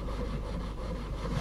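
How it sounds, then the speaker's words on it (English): Aluminium slingshot being hand-sanded with coarse 80-grit wet-dry sandpaper, a steady, continuous scraping rasp that stays loud and close for the whole moment, with no voice over it. "This is like 80 grit sandpaper I'm using at the minute."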